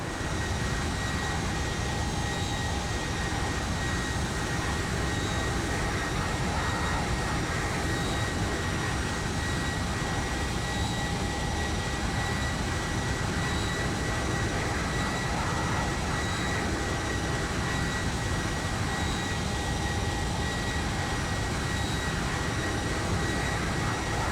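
Steady, loud jet engine roar from a FedEx Boeing 757 slowing down in flight in X-Plane 11, a continuous broadband hum with tonal whine that holds unchanged throughout, with no one talking.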